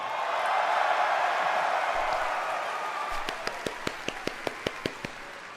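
Crowd applause at a Blizzcon trailer watch party fades into a single person's close, sharp hand claps, about ten evenly spaced slaps in a steady rhythm over the softening crowd noise.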